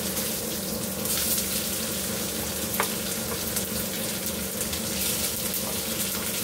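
Cumin seeds and onion frying in hot oil during home cooking, a steady, dense sizzle that holds for several seconds, with a brief sharper crackle partway through and no talk.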